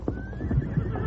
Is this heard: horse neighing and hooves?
yes